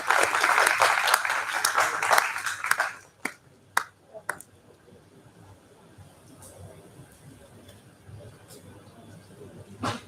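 Seminar audience applauds briefly for about three seconds, then the clapping stops abruptly, leaving a few scattered claps and quiet room noise with faint murmuring.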